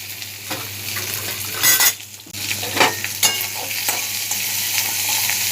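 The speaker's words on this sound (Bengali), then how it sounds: "আমি পেঁয়াজ কেটে নিয়েছি, কাঁচা লঙ্কা চেরা আর আলুটা তেলের মধ্যে দিয়ে নেড়ে চেড়ে" Sliced onion, slit green chillies and potato sizzle loudly in hot oil while a spatula stirs and scrapes them around the pan in steady bursts, with a brief pause partway through.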